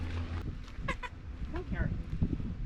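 A hen clucking in a backyard garden, a few short clucks and croaky calls at close range with a low background rumble and talk nearby.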